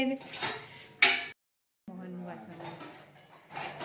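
Utensils clatter and clink as dishes are pulled out, with a brief pause of silence and a voice speaking in between.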